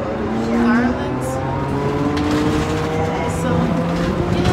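A bus drives along a road in Taiwan with a steady engine drone and passing traffic noise. A person talks over it.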